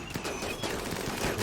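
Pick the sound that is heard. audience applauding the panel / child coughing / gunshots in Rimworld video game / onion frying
gunshots in Rimworld video game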